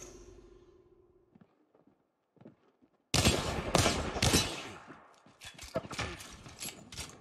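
Rapid gunfire in the video game Apex Legends breaks out after a quiet stretch, a dense string of loud sharp shots with brief gaps.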